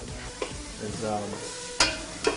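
Chopped garlic and ginger fry in oil in a pan while being stirred, a steady close sizzle with scraping spoon strokes and a few sharp clacks against the pan.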